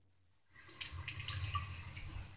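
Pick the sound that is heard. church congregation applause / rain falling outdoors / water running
water running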